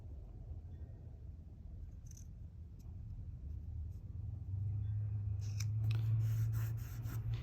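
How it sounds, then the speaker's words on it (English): Scissors snipping through paper, a few sharp cuts close by over a steady low rumble of background noise. "I'm going to just trim those off with my scissors"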